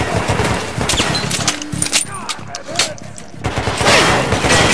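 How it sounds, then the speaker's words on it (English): Shotgun blasts and rapid firing from a Metro: Last Light gunfight crack repeatedly at close range, mixed with clattering and a voice speaking over parts of the action. "Shotgun. Presumably shooting."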